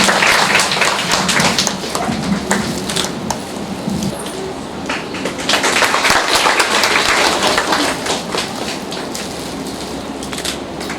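An audience at a women's leadership day event claps steadily for about eleven seconds, a dense, fairly loud patter that swells slightly midway and then holds.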